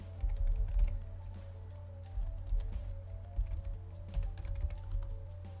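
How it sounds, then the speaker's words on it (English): Fingers tap out a command on a computer keyboard in a Raspberry Pi terminal, quiet bursts of key clicks in uneven runs with short pauses, heard up close over a low hum. "we're going to start the server by typing the application name"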